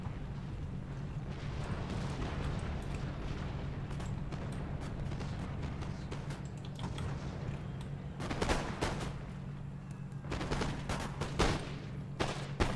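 Musket volleys in Empire: Total War, a Maratha Confederation campaign battle: dense crackling rolls of gunfire over a steady low rumble, with sharper bursts and volleys later, continuous and loud.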